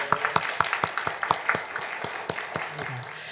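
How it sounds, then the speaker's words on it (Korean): A church congregation at a New Year's Eve worship service claps together in a quick, steady rhythm of sharp beats that slowly fade. Some voices are mixed in. "감사와 영광의 박수 올려드립니다."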